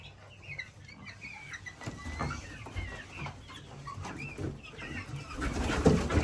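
A very large hen clucks and calls in short bursts over several seconds, with other bird sounds around it and some background movement, fairly near and moderately loud.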